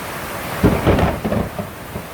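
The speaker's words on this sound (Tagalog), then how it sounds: "May kasama pang kidlat at kulog." A low rumble of thunder rolls through over the steady hiss of heavy rain beside a flooding river in Montalban, Rizal, loud and close, then settles back to rainfall.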